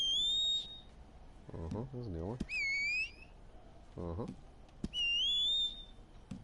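A character's whistle in the video game Red Dead Redemption II sounds several times, each a sharp rising whistle lasting about half a second to a second, with someone talking in between.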